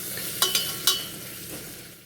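Crushed ginger, garlic and a few cloves fry in a pan with a soft sizzle, broken by three quick scraping stirs near the start of the short burst.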